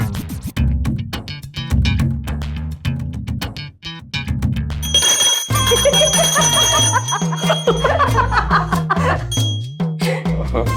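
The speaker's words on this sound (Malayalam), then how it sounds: "നമുക്ക് ഈ മാജിക് മണിയെ ഒന്ന് വിളിച്ചുണർത്തിയാലോ" A bell rings out repeatedly over lively music, its bright metallic tone sustaining through the second half alongside busy instrumental playing.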